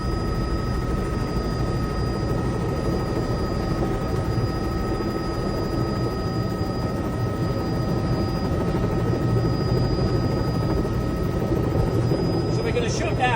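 A helicopter with a jet engine lands at Blackpool airport, its turbine whine and rotor drone filling the cabin in a loud, unbroken wash heard from inside, with a voice talking over it.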